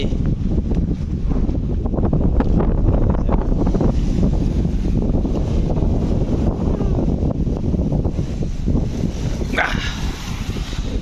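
Strong, cold sea wind roars and buffets the microphone on the coast in Kuwait, a constant loud rumble with a voice faintly under it.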